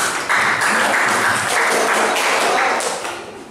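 A classroom audience applauds a student discussion group, a dense steady patter of many hands clapping close by that holds for about three seconds before tapering off.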